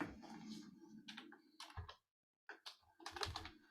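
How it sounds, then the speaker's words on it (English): Quiet, close typing on a computer keyboard during a lecture, with a run of key clicks, a short pause of silence, then another quick burst of keystrokes. "It's bad typing."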